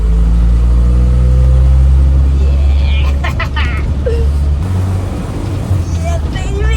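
Overlanding vehicle engine idling and revving at close range, a loud low rumble with rising and falling pitch, while people talk over it.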